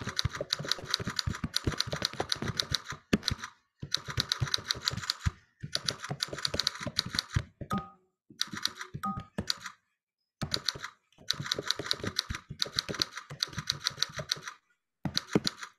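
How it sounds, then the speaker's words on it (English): Rapid, dense typing on a computer keyboard during a children's coding class, heard as close, loud clatter in bursts of several seconds separated by brief pauses, with a few isolated key taps between runs. "I'm really bad at typing."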